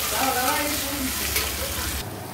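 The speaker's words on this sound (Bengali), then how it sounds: "নুন হলুদ দিয়ে ভালো করে মশলাটা কষিয়ে নিচ্ছি।" Ground cumin, coriander, Kashmiri chilli, salt and turmeric sizzle in a pan as they are stirred, a loud continuous hiss with scraping strokes that drops off abruptly near the end.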